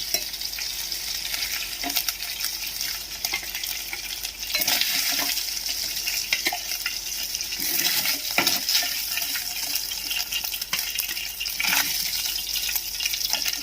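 Washed prawns deep-fry in hot oil and are stirred and lifted out for a prawn and egg masala curry. A dense, bubbling sizzle runs throughout, with scattered scraping and clinking from the stirring, loud and close.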